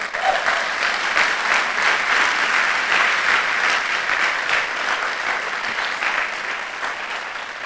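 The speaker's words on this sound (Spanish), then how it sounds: "¿Alguien le puede dar un aplauso al Señor por eso?" A church congregation applauds together during a Spanish-language sermon, a steady, dense wash of clapping that fills the room and holds at an even level from start to finish.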